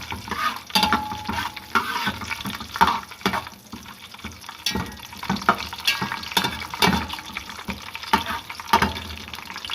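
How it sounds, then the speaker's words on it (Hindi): Water poured into a pan of roasted coconut, chopped almonds and other ingredients for sweet yellow zarda rice, with stirring scrapes and a soft hiss as the liquid hits the hot pan, continuing in uneven bursts close by. "अब हम इसमें पानी डालेंगे और ऊपर कवर दे देंगे।"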